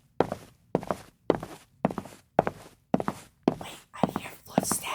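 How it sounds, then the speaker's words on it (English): Eight or nine evenly spaced thuds like slow footsteps, each sharp and close, about one every half second, growing slightly brighter toward the end, with no talking. "Wait, I hear footsteps."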